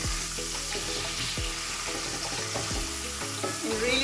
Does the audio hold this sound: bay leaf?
yes